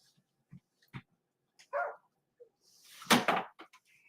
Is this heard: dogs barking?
yes